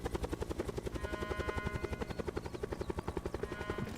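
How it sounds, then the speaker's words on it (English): A helicopter in the video game Delta Force descends, its rotor a steady, loud rhythmic thudding of evenly spaced beats that continues for the whole stretch. "So the helicopter is coming down."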